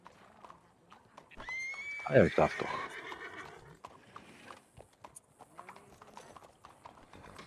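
A tethered horse in the Red Dead Online game lets out a loud whinny amid soft clip-clopping hooves, with people talking over the scene.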